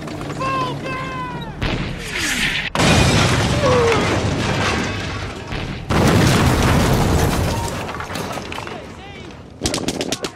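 A war-film battle scene of a German Tiger tank firing on an Allied tank convoy, with heavy booms, bursts of machine-gun fire and clattering debris in loud cuts that drop abruptly between shots.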